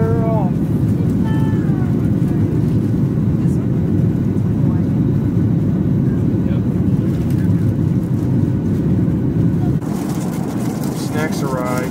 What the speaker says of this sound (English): Clear for takeoff, and we're off.